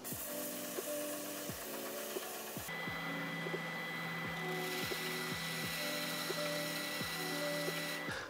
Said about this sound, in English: the CNC is done and the comb is looking good. I need to sand it a bit, so let's do that.